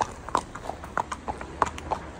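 Horses' hooves clip-clop at a moderate distance in an uneven walking rhythm, each hollow knock distinct over light background noise.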